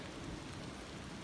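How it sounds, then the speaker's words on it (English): Steady rain hiss with a low, rumbling undertone of far-off thunder rolling continuously beneath it. "You can hear a little thunder going on in the background"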